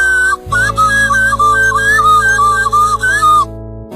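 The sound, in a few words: herders' whistles signalling to cattle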